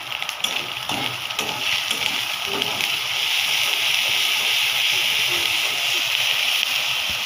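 Ginger-garlic paste with a little salt sizzling and spattering in a hot pan, a continuous loud hiss with spits, while people talk over it.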